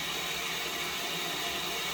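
A toilet tank refills with water after a flush, a steady continuous hiss and rush of inflowing water, close and unbroken throughout.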